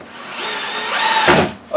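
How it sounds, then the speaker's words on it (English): Close by, a power drill drives a screw into wood and countersinks it: a brief, rising whine that climbs in pitch and then cuts off abruptly. "So there, I countersunk it."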